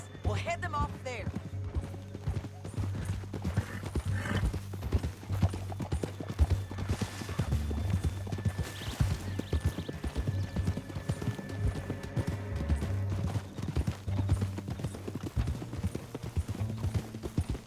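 Horse hooves clip-clopping in the Red Dead Redemption 2 video game, a steady rhythmic trot close by, with game ambience and a faint whinny mixed underneath.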